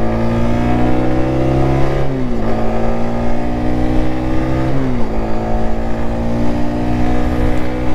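A Zontes 125 C single-cylinder 125 cc custom motorcycle runs steadily at speed, its engine drone loud and continuous, with two brief dips and recoveries in pitch, likely gear shifts, around the second and fifth seconds.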